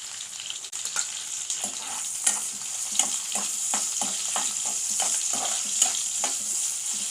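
Onions and green chillies fry in a pan with fenugreek leaves, giving a steady bright sizzle broken by repeated scraping strokes of stirring, close and unaccompanied by talk.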